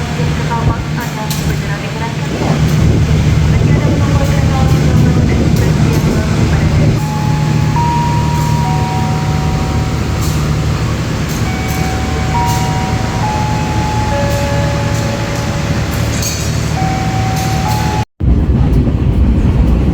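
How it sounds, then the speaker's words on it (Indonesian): KA Blambangan passenger train pulling into Semarang Tawang station, a loud steady low rumble of the rolling train with squealing brake tones and clatter over the rails, voices talking faintly underneath, cut off abruptly near the end. "Jam 18:20, kereta sampai di stasiun Semarang Tawang."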